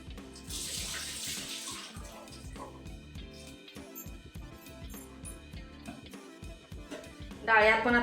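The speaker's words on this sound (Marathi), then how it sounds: "या डाळी असं स्वच्छ धुवून घ्यायच्या" Lentils being washed in water, with splashing and sloshing from running or stirred water and clinks, while music plays over it.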